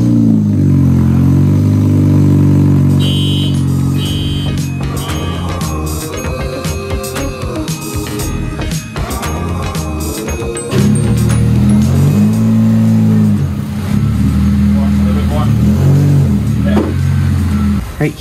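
Honda Civic Type R engine revving hard and loud while the car is repositioned, a strong continuous drone with repeated rises and falls in pitch, close to the microphone, with no talk over it.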